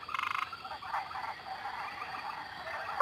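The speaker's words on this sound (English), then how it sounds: "Here's a frog, so let's hear her story." A rainforest frog croaks in an animated rainforest scene, a quick rapid burst of rattling croaks at the start, then a soft chirping background and a sharp final call, no voices.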